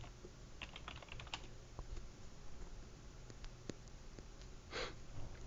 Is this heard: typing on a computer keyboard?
yes